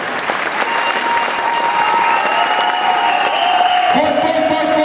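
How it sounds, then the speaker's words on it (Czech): A crowd at a gala evening of the Franco Memorial in Pardubice applauds steadily and loudly for several seconds, with a faint sustained tone running underneath. "Chtělo by to asi větší potlesk."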